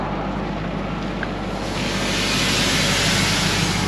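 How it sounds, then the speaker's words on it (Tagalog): A steady, broad hiss of air releasing from a truck runs throughout, growing slightly louder and brighter partway through, with a low rumble underneath and no voices. "Parang meron nagre-release na hangin."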